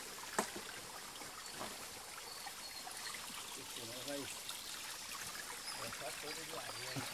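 A small stream of pure spring water trickles steadily along a mountain trail near Jequié, Bahia, a continuous soft babble close by, with a brief sharp knock early on.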